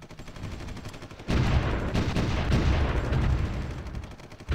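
Artillery fire in the strategy video game Supreme Ruler Ultimate: a dense, continuous rumbling barrage of booms and gunfire that swells up loudly after a quieter opening and holds steady.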